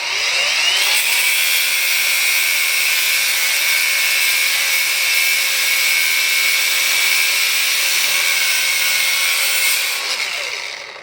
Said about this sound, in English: Studs are a little bit long, so I'll just trim them off.